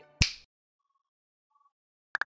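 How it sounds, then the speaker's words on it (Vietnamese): Finger snaps by the character Nugget in the video game Kindergarten 2: one sharp, loud snap, a quiet pause with faint tones, then three quick crisp snaps in a row at the end. "Và bây giờ với cái búng tay này của Nugget"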